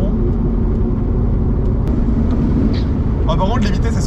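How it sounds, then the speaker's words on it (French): A BMW E36 rolling on knobby off-road tyres gives a loud continuous rumbling drone with engine hum, and someone speaks over it briefly toward the end. "Ça fait un bordel les crampons."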